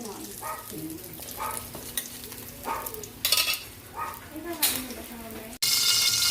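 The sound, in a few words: sautéing in a pan for chop suey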